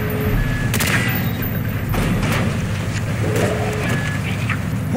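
Gunfire in Call of Duty: Black Ops as a player shoots out door hinges during an indoor assault, a dense, continuous rattle of shots and impacts over steady game ambience.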